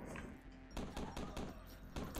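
Several sharp gunshots from a weapon in the video game Huntdown, loud and close, fired in a quick irregular series over a steady background hum.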